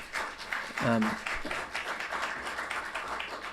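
Audience applause at a hearing for the committee's lead consultant: a dense, steady patter of many hands clapping throughout, with a brief voice rising over it near the start.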